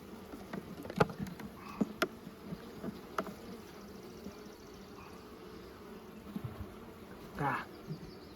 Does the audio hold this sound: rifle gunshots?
no